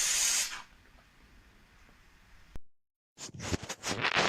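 A Dupray Neat steam cleaner releases steam with a sharp hiss, then a quieter stretch, a brief silence, and several short sputtering bursts. There is no speech.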